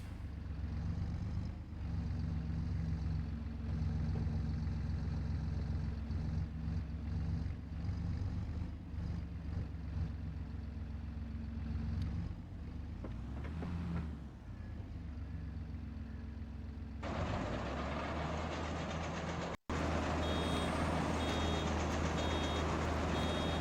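A Forterra tractor driving out to bale hay, its engine droning steadily and fairly loud, then a change to a rougher, noisier running sound near the end.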